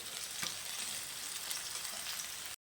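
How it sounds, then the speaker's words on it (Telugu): Bitter gourd pieces frying with tomatoes in a pan, village-style curry, giving a steady close hiss of sizzling oil with faint stirring scrapes, continuous until a sudden brief cutoff near the end. "ఇప్పుడు మనం ముందుగా కట్ చేసిన బుడకాకరకాయ ముక్కలను ఇందులోకి వేసుకోవాలండి"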